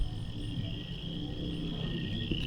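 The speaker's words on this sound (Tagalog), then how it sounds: "Kuliglig yan." Crickets chirp in a cemetery in a constant high, shrill trill, steady and moderately faint, with a low murmur of background noise beneath.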